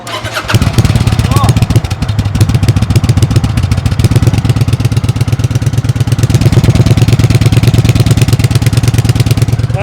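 A Kawasaki VN900 motorcycle engine cranks and fires up, then settles into a loud, steady, close-up idle with a fast, even, throbbing pulse.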